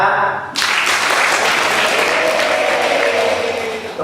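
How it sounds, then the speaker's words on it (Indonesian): Applause from a Bible school holiday session audience bursts in suddenly after a spoken line and continues as a steady, fairly loud clapping wash, fading slightly at the end. "Tepuk tangan."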